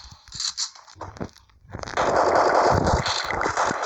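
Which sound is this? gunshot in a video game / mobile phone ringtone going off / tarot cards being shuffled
gunshot in a video game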